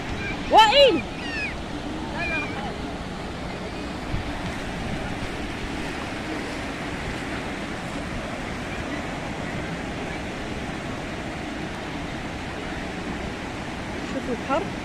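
Rough sea surf washes steadily against a beach on a family outing, a continuous broad rushing wash with wind buffeting the microphone and a few brief voices near the beginning.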